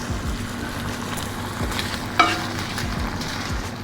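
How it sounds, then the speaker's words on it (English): Chicken and sun-dried peppers sauté in a hot pan with a loud, continuous crackling sizzle and a single quick stir or scrape partway through. "So 5 minutes, let's saute it."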